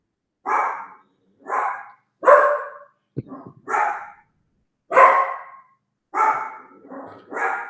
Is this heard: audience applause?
no